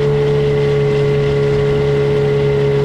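A Gladiator 9.8 outboard boat motor drones continuously at a constant pitch, loud and close, with a faint rushing wash of water behind it and no voices.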